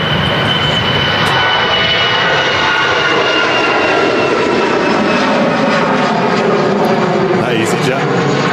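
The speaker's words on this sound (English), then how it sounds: "catch the departure of the A380 as well. Should be phenomenal. Blasting off runway 1" An Airbus A380 airliner departs runway 1 at Manchester Airport, its jet engines roaring in a loud, continuous broadband rumble that holds steady throughout, heard outdoors from a plane-spotting position.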